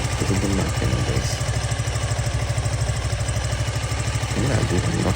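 A Suzuki V-Strom 160 motorcycle engine runs steadily up close, a continuous low, throbbing idle with a faint rhythmic knock that holds even and loud throughout.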